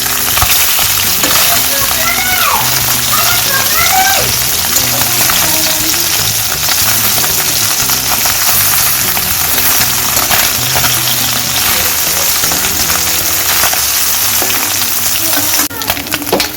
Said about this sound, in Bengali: দিয়ে দিলাম তেল, তেলটা গরম হয়ে গেছে, দিয়ে দেবো মাছগুলোকে